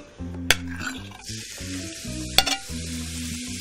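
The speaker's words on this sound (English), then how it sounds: "We're just going to slide our beef in." Beef slides into a hot pan and breaks into a bright, close sizzle, with sharp metallic clanks of utensil on pan and a steady frying hiss that swells as the meat settles.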